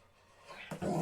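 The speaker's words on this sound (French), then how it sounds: "Allez, Elio, tu dois aboyer." A dog gives a short growling bark on command, a single close, loud burst at the end of a brief quiet moment.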